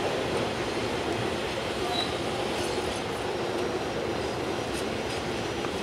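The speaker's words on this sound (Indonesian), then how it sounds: "Argo Parayangan tujuan Bandung. Keretanya mindik-mindik." An Argo Parahyangan passenger train bound for Bandung rolls past on the line near Matraman, Jatinegara, a steady broadband rumble and rushing wheel noise with faint clicks, heard from close by without pause.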